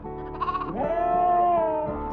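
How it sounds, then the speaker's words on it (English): Sheep on a farm bleat in a short sequence, a quieter quavering call followed by one loud, long, wavering bleat close by. "Squealing included from the sheep."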